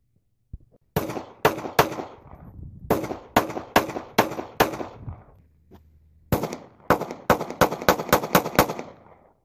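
Sharp, close gunshots from a Kahr 380 pistol at an outdoor range, fired in two quick strings of about eight shots each with a brief pause between them, every crack loud with a short echoing tail.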